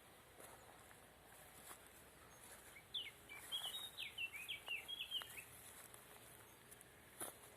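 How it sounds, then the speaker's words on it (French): A distant Eurasian golden oriole sings outdoors: a brief run of faint whistled phrases mid-clip, set against a quiet natural background with a few soft rustles. "Le loriot, il est au loin."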